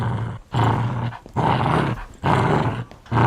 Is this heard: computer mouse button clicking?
no